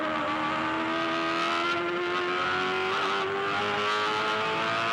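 A 2008 V8 Supercar at the Bathurst 1000 holds a sustained engine note that rises slowly in pitch as it accelerates, loud and continuous, with no talk.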